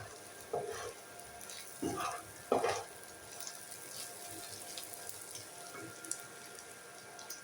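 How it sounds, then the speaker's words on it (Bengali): Spices fry in a pan with a soft, low sizzle. Three short scraping stirs come early, then quieter stirring continues alone. "আমার মশলাগুলো ভালোভাবে ভাজা হয়ে গেছে।"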